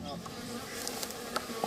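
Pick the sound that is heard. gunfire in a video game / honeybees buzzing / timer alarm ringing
honeybees buzzing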